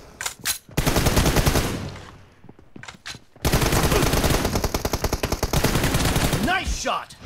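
Bursts of automatic gunfire in a shooting video game crack loud and close, with rapid repeated shots in long runs broken by short gaps.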